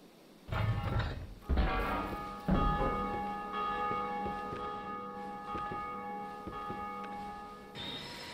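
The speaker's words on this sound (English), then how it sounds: "Oh, we rang the bell." A large bell rung in Dark Souls 2 strikes three times about a second apart, each deep clang leaving a long, ringing, slowly fading hum, with no talking.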